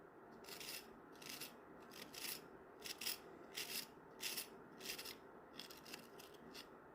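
A pencil scrapes in a hand sharpener as a string of quiet, rhythmic rasping strokes, each a short hiss with brief pauses between, close and soft.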